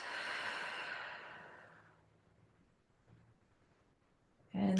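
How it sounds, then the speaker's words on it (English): A slow, audible exhale during a yoga flow, a soft breathy rush that fades out over about two seconds into near silence, followed by a brief louder breath at the end. "Take a breath out."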